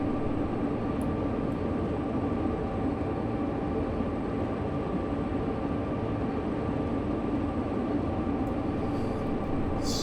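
A freight train rolls steadily on the Sherman Hill Cheyenne–Laramie route in Train Sim World 2, a continuous loud rumble with a faint tonal hum and no pauses.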